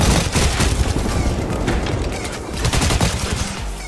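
Grenade blast and rapid gunfire from an Apex Legends pro league match, dense overlapping bursts of shots and booms rolling continuously for several seconds, loud and close.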